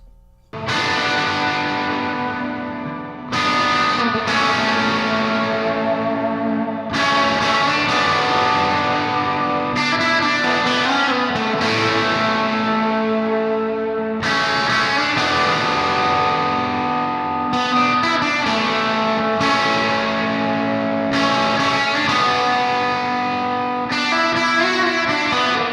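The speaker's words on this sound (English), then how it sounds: "next we have our shoegaze leads" Shoegaze lead tone on electric guitar through a Vintage Vibe amp sim with pushed mids and treble, loud and dense with distortion, chorus and echo, sustained swelling phrases washing continuously with no talking.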